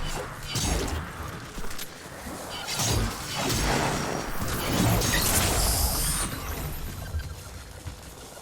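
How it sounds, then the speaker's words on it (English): Enemies explode in the video game Destiny 2 as a continuous stretch of crunching, shattering blasts and whooshes, with a bright metallic burst near the end and no talking. "That's the sound of them exploding."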